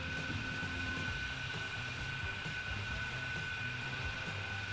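A Concorde airliner flying in Transport Fever, a steady, even engine roar that holds at a constant moderate level throughout without any break.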